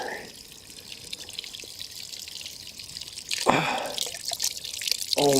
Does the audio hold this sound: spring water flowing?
yes